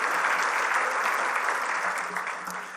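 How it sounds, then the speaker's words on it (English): Steady, dense applause from a large audience fills the whole stretch, loud and even with only a slight fade toward the end. "Let's have another big round of applause for all of these legendary Hall of Famers who are with us tonight."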